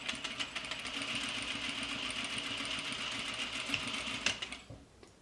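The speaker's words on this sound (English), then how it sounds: "I'm tacking down the pocket and the hem." A sewing machine edge stitches a pocket onto a hoodie, its close, steady mechanical whirr running continuously for about four seconds before stopping abruptly.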